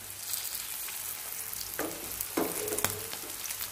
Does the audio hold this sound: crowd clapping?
no